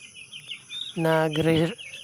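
Broiler chickens in a grower cage, with a clear close bird call rising out of quiet background and lasting just under a second before fading back to low ambient noise.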